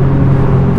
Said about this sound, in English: On the outside it sounds peppy and alive, and the V6 has its own sort of special character, audibly that is.